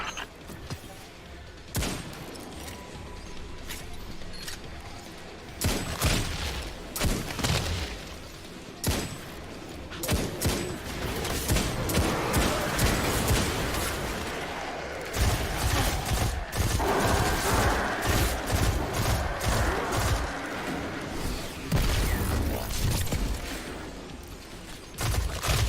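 Rapid gunfire in a video game, shooting yellow hive sacks in an alien breeding ground, with sharp shots in bursts over a steady background rumble.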